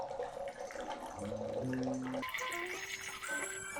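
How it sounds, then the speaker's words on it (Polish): Water at 70 degrees is poured through a funnel into an oak barrel, a gurgling trickling flow whose pitch climbs as the barrel fills, fairly faint and without voices. "uzupełniamy bekę wodą, która ma 70 stopni ciepła"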